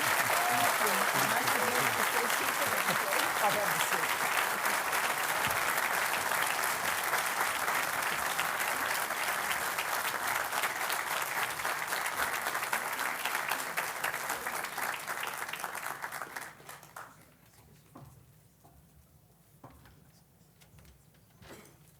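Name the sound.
audience round of applause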